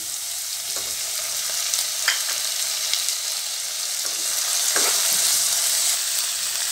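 Tomatoes tipped into sautéed onions with turmeric in a pan for a potato sandwich filling: loud, steady close sizzling with a few light scrapes of stirring, swelling slightly toward the end.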